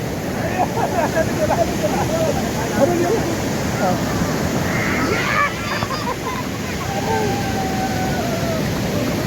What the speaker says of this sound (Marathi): आपण एन्जॉय करतो वॉटरफॉलवरती, कुसगाव वॉटरफॉल